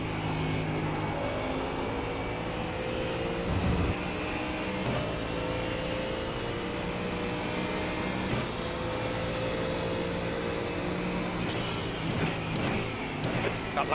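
A Ford Mustang GT3 race car engine drones steadily through a race, a continuous loud hum with shifting pitch and brief gear-change dips, near and unbroken, with no voices over it.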